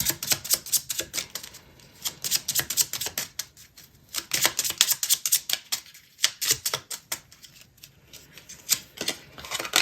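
Tarot cards are drawn and handled in rapid, crisp flicks and slaps, close and continuous in irregular bursts with brief gaps, and no voice over them.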